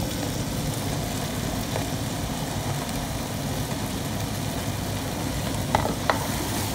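Turkey and mushrooms cook in a stew pot for a spinach and tomato stew, giving a steady low bubbling sizzle with a couple of faint clinks near the end.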